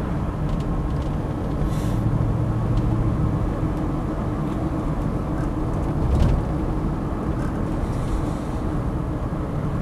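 A Land Rover Defender 90 50th edition V8 slows under braking, with a steady low rumble of engine and road noise from inside the vehicle and no talking.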